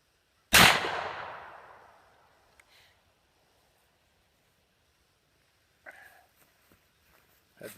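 A Marlin 336 lever-action rifle fires one loud 30-30 round outdoors, the sharp crack trailing off in a long decaying echo, followed by faint scattered handling clicks.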